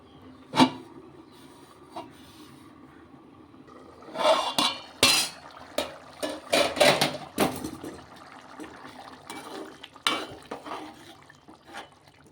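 A lid set onto a cooking pot in a home kitchen, with a cluster of sharp metallic clanks and rattles in the middle and scattered clinks of utensils before and after, close and fairly loud against a quiet background.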